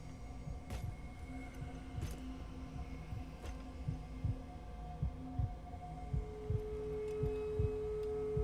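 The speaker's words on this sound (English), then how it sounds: "Heartbeat." Steady thumping heartbeat from the video game Doom: The Dark Ages, a regular low pulse repeating under a constant hum of background tones, moderately quiet with no talk.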